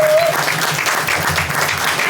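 An audience claps steadily at an evening poetry event, a dense wash of applause lasting throughout with a faint voice beneath.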